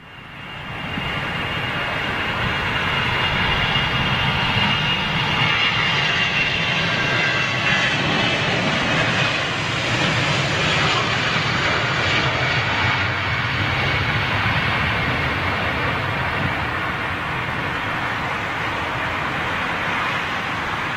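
A big jet aircraft at London Heathrow roars steadily for about twenty seconds, a loud broad rumble and whine that swells gently as it passes with no talk over it.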